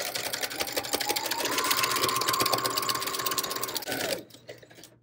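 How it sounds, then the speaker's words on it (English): A sewing machine stitches along a line on a paper peace tag, a fast, steady, close mechanical rattle running for about four seconds before it abruptly stops. "I'm going to sew right there on that line with the tack"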